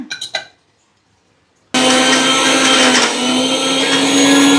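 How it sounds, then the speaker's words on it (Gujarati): After a brief quiet moment, a mixer grinder jar starts loudly and whirs steadily as it grinds pieces of ginger with salt, a continuous high motor whine filling the rest of the clip. "અને આ બધું મિશ્રણ બરાબર વાટી દઈશું મિક્સર જારમાં"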